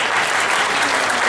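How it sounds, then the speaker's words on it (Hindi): An audience at an Ambedkar Jayanti gathering breaks into dense, sustained applause honouring health workers, a loud, steady wash of many hands clapping with no pauses. "तो इनके लिए तो ताली बजनी चाहिए।"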